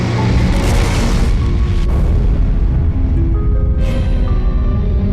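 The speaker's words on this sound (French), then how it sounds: "L'explosion, qui a eu lieu au-dessus de la Sibérie, a dégagé une énergie équivalente à 15 mégatonnes de TNT." A deep, sustained boom of an asteroid airburst explosion high over Siberia, a loud rumbling roar that fills the whole stretch with a few sharper bursts rising within it and no voices.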